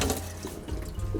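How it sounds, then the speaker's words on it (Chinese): Tap water runs steadily over raw pork as the skin is scraped clean before braising in red wine, a continuous close splashing with brief scraping accents and no talk. "一边刮一边冲水"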